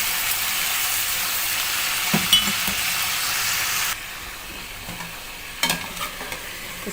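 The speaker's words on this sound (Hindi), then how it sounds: "इसको मैं मीडियम फ्लेम पे फ्राई कर रही हूँ" Chicken frying in ghee in a karahi over medium flame, a dense, even hiss that drops in level partway through, with a few soft knocks of a spoon against the pan and no voices.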